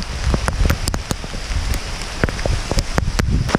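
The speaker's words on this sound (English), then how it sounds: "It's hailing like crazy!" Hard hail falling outdoors, a dense clatter of sharp ice pellet impacts on nearby surfaces with irregular loud hits over a continuous pattering roar.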